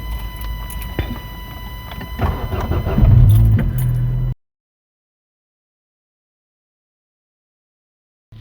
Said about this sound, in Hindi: तो आपने उसके बाद इंजन स्टार्ट करना है।